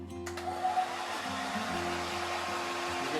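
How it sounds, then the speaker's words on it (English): Hair dryer blowing on watercolour paint, a steady close whirring hum with a constant motor drone and airy hiss, starting with a brief click and running evenly to the end, no talking. "I've got my hairdryer a little bit closer this week."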